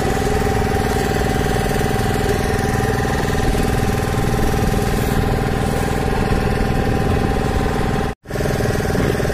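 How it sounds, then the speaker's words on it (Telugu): A motorboat engine drones steadily and loudly through a boat ride on the Godavari river, with a rough mechanical chug that continues without a break except for one brief dropout near the end. "గోదావరిలో బోటు షికారు"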